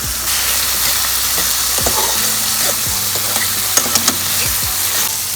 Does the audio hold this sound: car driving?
no